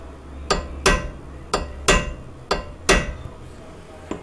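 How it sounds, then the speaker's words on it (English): A hammer strikes a metal punch six or seven times, dimpling a car axle nut on a Subaru Outback, each sharp metallic tap close and distinct with short pauses between. "we want to just dimple in the axle nut using a punch"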